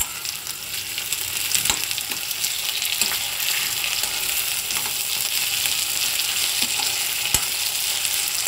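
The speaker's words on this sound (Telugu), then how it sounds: "ఉల్లిగడ్డతో పాటు ములక్కాడ కూడా కాస్త వేగడం జరుగుతుంది" Onions and drumstick pods, with a little salt added, fry in a pan with a steady, close sizzle that crackles continuously and pops now and then, with no voices over it.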